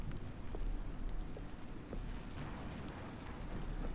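Rain in a video game, a steady soft hiss of falling drops with faint scattered patters, continuous and fairly quiet.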